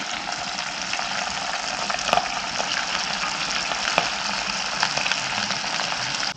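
Chicken deep-frying in oil, a dense continuous sizzle with crackling pops, steady and close.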